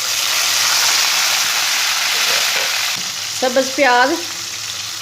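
Onion and garlic fry in a pan for a spicy potato and spinach curry, a loud, steady close sizzle that goes on throughout, with a brief voice near the end.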